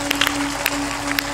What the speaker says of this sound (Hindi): ताली बजाओ इनके अभिनंदन।